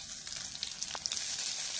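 Hot oil sizzling in a pan while Ganges khoira fish chorchori is cooked with vegetables: a soft, steady frying hiss with scattered small crackles, no voices.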